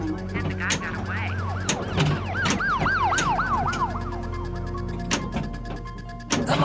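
Sirens from a Batman pinball table wail in rising and falling sweeps over a steady machine hum, with sharp mechanical clacks and thumps of the playfield punctuating the sound.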